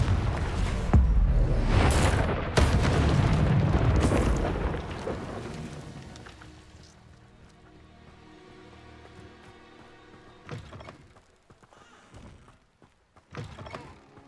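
Confringo, the blasting spell in Hogwarts Legacy, sets off a burst of loud booming impacts early on that rumble and fade, followed by quieter thuds and a couple of later sharp hits.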